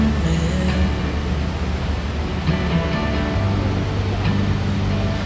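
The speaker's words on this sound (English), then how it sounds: "There are so many beautiful and powerful waterfalls to see here in Iceland, and hearing the sounds of these incredible marvels never gets old" Gullfoss waterfall in Iceland gives a steady, loud, broadband roar of rushing water that continues without a break, with faint higher tones over it and no voices.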